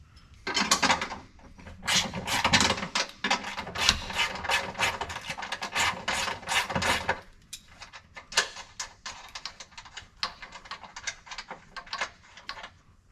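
A ratchet or power driver works loose the nuts holding a differential skid plate under a vehicle, a long run of dense, clicking buzz followed by quieter scattered clicks and rattles close by.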